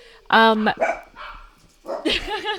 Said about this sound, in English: there the dogs go barking